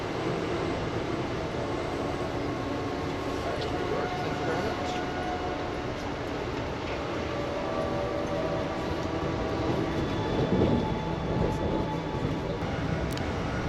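A continuous rumbling rattle of an Amtrak train rolling along the tracks north of the Susquehanna River near Harrisburg, steady and fairly close, with faint squeals and clatter layered in.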